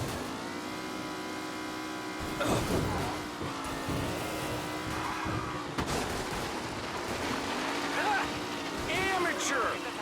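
Race cars roar in a tight pack during a race in the video game Mafia: The Definitive Edition, with a steady loud engine drone, revving surges and rattling, under constant commentator speech throughout.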